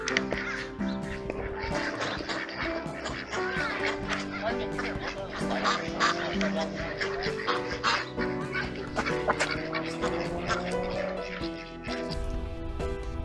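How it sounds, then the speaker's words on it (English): A large flock of mixed-species ducks on a city park pond quacks loudly and continuously in overlapping calls, dense and close, with no pause over the whole stretch. "Treaster Pond is home to a large flock of mixed species ducks"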